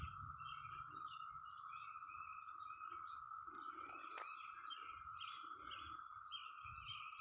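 Cicadas in Indiana drone as a steady, faint distant whine throughout, with scattered bird chirps layered on top and no talking.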